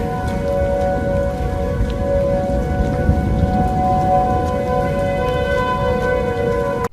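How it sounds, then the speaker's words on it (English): Several outdoor tornado sirens sound at once, their steady tones overlapping and blending into sustained harmonizing chords, heard continuously at a distance over a noisy, rain-like background. "Normally tornado sirens sound scary, but this time the sirens synced up and harmonized to create this beautiful sound"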